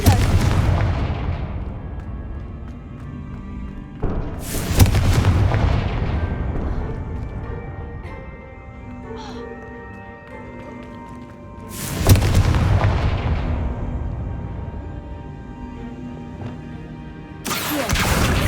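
Confringo blasting spells from Hogwarts Legacy erupt as heavy booming explosions, three or four big blasts spaced several seconds apart, each trailing off into a long rumbling decay.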